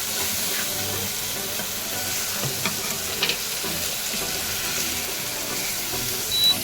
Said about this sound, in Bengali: টমেটো নিয়ে এটা নাড়া সুন্দর করে নাড়া দিল